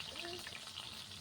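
Onions fry and are stirred in a pan, giving a steady, close sizzle with a scraping texture throughout the short stretch. A faint voice may be mixed in.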